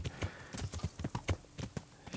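Horse hooves clip-clop at a steady trotting rhythm while riding in the video game Kingdom Come: Deliverance. The quiet, evenly spaced hoofbeats are close and play alone.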